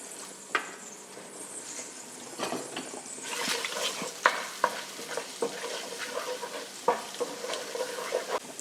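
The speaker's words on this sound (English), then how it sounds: "I'm gonna go ahead and saute my garlic in it" Garlic sautéing in oil in a pan before a flour roux, a continuous close sizzle with frequent scraping stirs and clinks of a utensil against the pan throughout.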